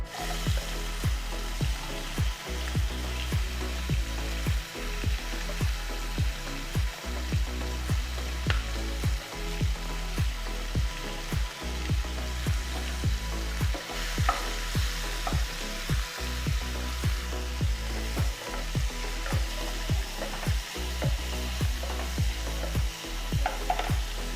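Prawns fry in a pan of hot oil, giving a loud, constant close-up sizzle broken by regular rhythmic scrapes and stirs, with no talk.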